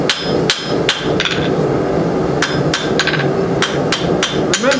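Hammer blows on hot steel drawn out for a lantern hook at a forge, sharp ringing strikes in quick clusters of three or four with short pauses, loud and close.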